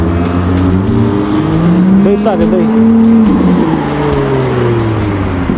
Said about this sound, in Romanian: Vă rog, filmează un Lamborghini Revuelto, că o să vină.